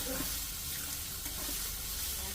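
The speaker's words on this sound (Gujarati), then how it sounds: "કાંડા કાંડાને થોડું ગોલ્ડન બ્રાઉન કરશું" Onions frying in oil with ginger chili paste in a home kitchen pan, a steady broadband sizzle with faint stirring scrapes, close and continuous.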